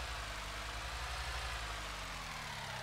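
A tractor engine idles in Farming Simulator 19, a steady low rumble with a constant broadband drone, no talking over it.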